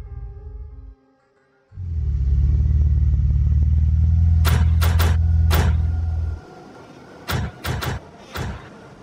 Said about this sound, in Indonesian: Bagaimana bisa ada mobil yang lewat di lapangan latihan?